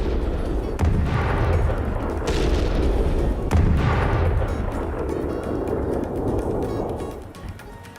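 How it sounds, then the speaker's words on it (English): A missile strikes central Israel, caught on CCTV: a heavy, rumbling explosion with several sharp booms and a sustained low roar, loud throughout and fading slightly at the end. "As a huge explosion occurs, the man is then seen falling down"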